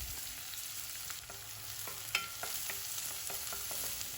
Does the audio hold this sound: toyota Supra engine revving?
no